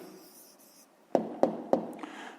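Pen or pencil marks on paper while writing an answer by hand in a maths exercise: soft scratching followed by three sharp taps, close and quiet.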